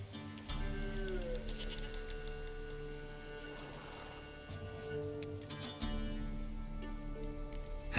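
A goat bleats a few times amid steady ambient music and rain-like patter in The Witcher 3, the calls moderately close and rising over a sustained droning background with no talk.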